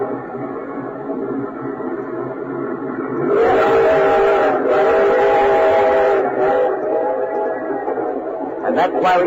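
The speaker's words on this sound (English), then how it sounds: "Denny, I've reserved a compartment for us aboard the train that's taking the Green Wings to Centerville" A train rumbles along the rails in an old radio drama, with a steady low rolling sound joined partway through by a loud, sustained whistle.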